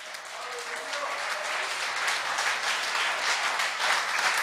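Church congregation applauding together, a steady dense wash of clapping that stays loud and even throughout, with faint voices mixed underneath.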